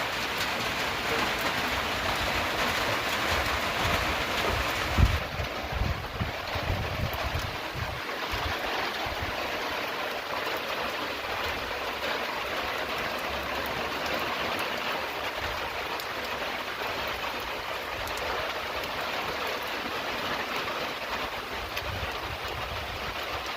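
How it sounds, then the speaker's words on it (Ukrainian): Rain falls steadily over a village in the Ukrainian countryside, a continuous even hiss that keeps the same level throughout, with no voices. "Цікаво, цей дощ промоче нам земельку."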